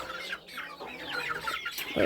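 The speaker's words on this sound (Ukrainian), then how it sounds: "курчата оці ось сіренькі бігають, бачите" Small grey chicks on a farm, in a pen with bantam hens, peep and cluck in a busy overlapping chorus of short chirps, fairly close and continuous, with no talking.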